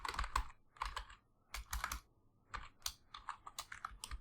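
Typing on a computer keyboard while writing Java code, with bursts of quick, close key clicks separated by short pauses, heard alone without talk.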